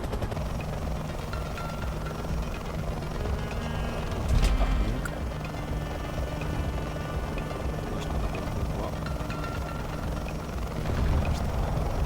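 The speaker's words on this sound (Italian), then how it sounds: "Il lento elicottero." A slow helicopter's steady rotor and engine drone fills a War Thunder VR match, constant and fairly loud throughout, with a couple of short louder bumps.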